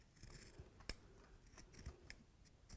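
Scissors trim fabric after a seam is machine sewn on a tote bag, giving a few quiet, quick snips and small clicks close by with no talking.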